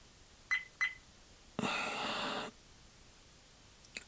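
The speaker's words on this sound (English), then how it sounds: "As you can see, the dash camera started beeping." VIOFO dash camera beeping during a firmware transfer, two short quiet beeps followed by a longer harsh electronic tone lasting about a second, then a faint chirp, all soft in a quiet room.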